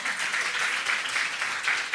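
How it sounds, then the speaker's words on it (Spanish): A church congregation claps together during a Sunday morning service, a dense, continuous burst of applause from many hands, fairly loud and steady throughout. "Dele un aplauso al Señor esta mañana."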